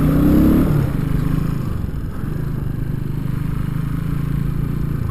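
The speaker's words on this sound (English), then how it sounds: "I forgot how good my bike can sound sometimes." A motorcycle engine rumbles low and steady while the bike is ridden, with wind and road noise over it and a brief louder surge at the start.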